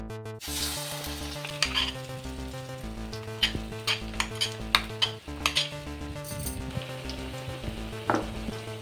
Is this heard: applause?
no